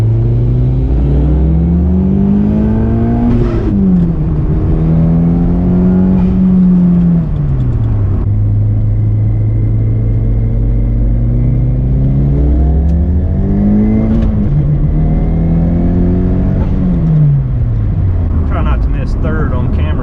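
A Mitsubishi Galant VR-4 accelerates hard in second gear, its engine droning loud and close with rising pitch, revs dropping at shifts and climbing again. A voice talks over it.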